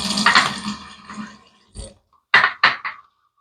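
Water added to a shave soap lather for a wet shave: a stretch of wet squelching and swishing fades, followed by a few short, distinct splashes and drips, close and clear.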